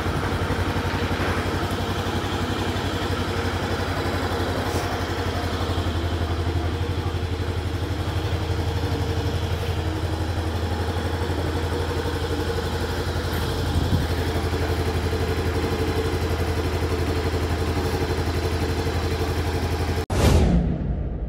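Bristol Venturi 500 motorcycle on its stock exhaust idling steadily nearby, a low even thrum holding for about twenty seconds before a brief clatter at the very end.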